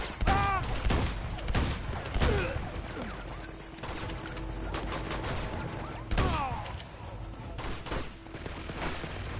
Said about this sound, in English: Oh my God, it's a machine gun.